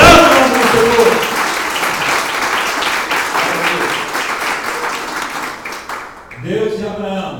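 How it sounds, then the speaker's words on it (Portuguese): A congregation at a Portuguese-language church service claps loudly and steadily for about six seconds. The clapping tapers off, and then a voice speaks. "Aplauda o nome do Senhor."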